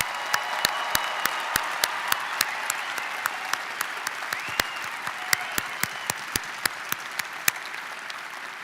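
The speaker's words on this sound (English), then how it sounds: "One more round of applause for our graduates." A large audience applauds graduates at an Iowa State University fall undergraduate commencement, with sustained dense clapping and sharp individual claps standing out throughout, steady and fairly loud with no talking.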